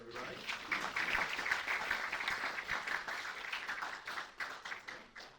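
Audience at an election policy panel event applauding a congressman as he is introduced, a moderate round of clapping that swells and fades under a host's speaking voice, somewhat distant and soft.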